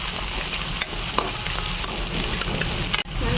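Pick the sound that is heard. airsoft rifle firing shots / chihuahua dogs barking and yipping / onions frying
onions frying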